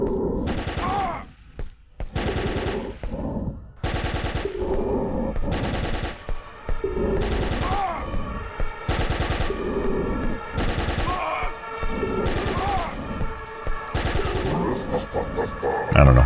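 Video game turrets fire in repeated loud bursts of rapid gunfire, several volleys separated by short pauses, with a few scattered single shots at the start.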